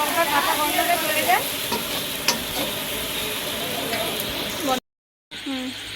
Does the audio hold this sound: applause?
no